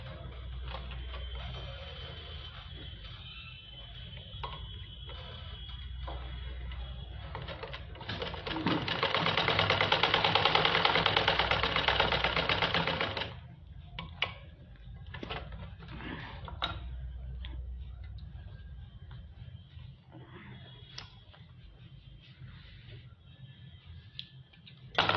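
A sewing machine stitches a palazzo waistband, running in a steady fast whirring burst of several seconds amid faint room hum and scattered clicks and handling noises, with no voices.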